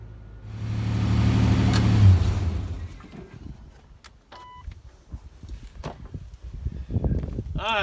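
A car pulls away, its engine droning loudly and steadily for a couple of seconds before fading, followed by quieter road and cabin noise with a short beep.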